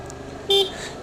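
A Yamaha MT-07 motorcycle's horn gives one short, sharp beep close by, standing out over a steady background hum.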